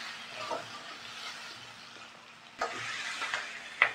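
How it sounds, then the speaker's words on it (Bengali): Sliced capsicum and onion sizzle in a little oil over a high gas flame, a steady frying hiss with a few louder stirring bursts and no talk. "একটু তেলের মধ্যে এগুলো ফ্রাই করবো।"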